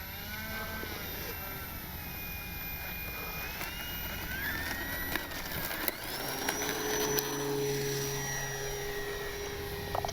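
Electric motor of a Durafly 1100mm T-28 RC airplane whines during an evening takeoff, its pitch climbing and shifting steadily at moderate loudness over faint background noise.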